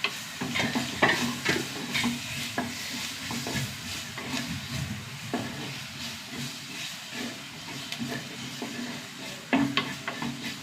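Ripe tomato sautés in toasted spice powders in a pan, a steady hissing sizzle with occasional stirring scrapes and spatula clinks, close and unaccompanied by speech.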